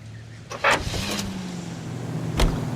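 Car engine from L.A. Noire, a steady low drone with a rising pitch shift as it drives, plus a few short mechanical clicks and bumps near the start and a thud toward the end.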